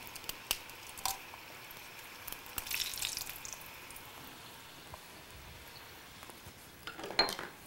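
Dried red chili pieces hitting hot oil, a faint sizzle under scattered clinks of a spoon and pan, with a louder crackling burst near the end.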